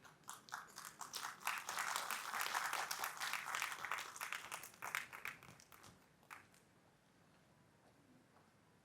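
Crowd applause at a Malayalam stage celebration for family members being welcomed onstage, a dense burst of many hands clapping that builds, holds loud for several seconds, then thins out and fades to a quiet room.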